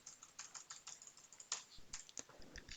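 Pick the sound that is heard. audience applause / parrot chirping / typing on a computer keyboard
typing on a computer keyboard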